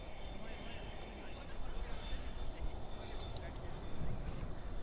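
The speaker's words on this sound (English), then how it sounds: "And Asiana Cargo right now taxiing right there in front of your guys' screen." An Asiana Cargo jet taxis at night at Dallas/Fort Worth International Airport, a faint, steady distant engine roar that carries throughout, with a voice murmuring quietly beneath it.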